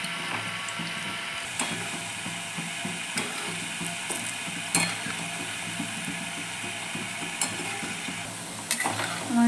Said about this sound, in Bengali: মিষ্টিগুলোকে ভেজে নেব।